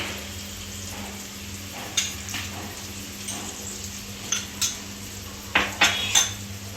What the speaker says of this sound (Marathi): फक्त 2 मिनिटं परतायचं आहे.